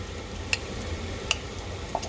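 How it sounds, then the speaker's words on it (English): Food gets stirred in a very hot pan while cooking bacalao, a steady low sizzle running throughout with a few faint utensil clicks against the pan, close by and with no talking. "Give it a little stir there."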